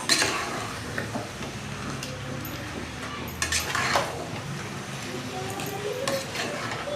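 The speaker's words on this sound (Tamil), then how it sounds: "நல்லா கிளறி விட்டுக்கலாம் அந்த இஞ்சி பூண்டு வெங்காயம் இது எல்லாமே படுற அளவுக்கு நம்ம கிளறி விட்டுக்கலாம்" Country chicken curry with ginger, garlic and onion stirred in a pot, a utensil scraping and clinking against the metal over a faint frying sizzle, fairly quiet and up close.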